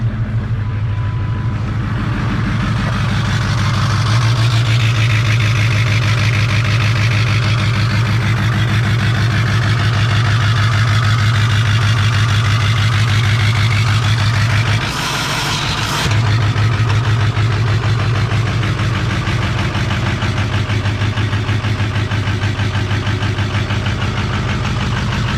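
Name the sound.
Ford Bronco 6.0 diesel engine idling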